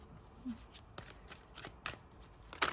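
Tarot cards are shuffled by hand in quiet, close riffles and soft flicks, a few crisp slaps and card snaps spread over a couple of seconds, fairly faint.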